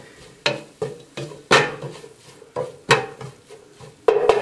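A spoon scrapes and knocks against a pot as flour is stirred into beef and cabbage soup ingredients, about nine sharp, evenly spaced strokes, close up with a faint sizzle underneath.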